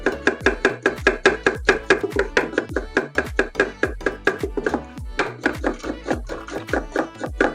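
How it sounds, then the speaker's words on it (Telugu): A knife chops onions finely on a board in a fast, even run of sharp close taps, about three per second, with a short pause midway. "2 ఉల్లిపాయలు తీసుకున్నామండి. ఈ ఉల్లిపాయలు సన్నగా కట్ చేసుకుందాం."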